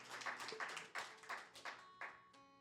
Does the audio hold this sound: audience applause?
yes